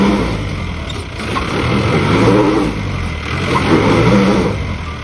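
A Mahindra Bolero engine revs hard off-road as the vehicle gets stuck in water, a loud mid-pitched roar that swells and dips in repeated pushes, close and without talk.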